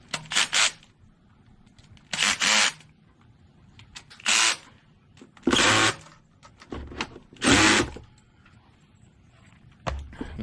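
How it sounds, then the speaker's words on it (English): A cordless power driver tightens rocker arm shaft bolts on a 2007 Jeep Wrangler 3.8L engine in short, loud whirring bursts, about six separate runs with quiet pauses between them. "I'm going to increase the clutch on my driver. We'll go ahead and get them close to where they need to be."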